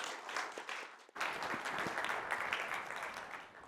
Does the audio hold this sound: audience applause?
yes